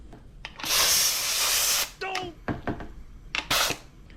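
Glue spray gun hooked up to an air compressor, fitting out a custom truck interior, gives one long loud hissing burst followed by two shorter ones, with voice-like sounds and clatter between the bursts.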